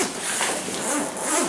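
A zipper on a Maxpedition Fliegerduffel bag is pulled open in one steady, close rasp lasting about a second and a half, with no talk over it.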